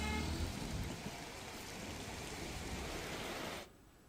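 Steady late-night rain falls in Dehgam, Gandhinagar, Gujarat, in a dense wash of patter that holds evenly, then cuts away abruptly near the end, leaving quieter background.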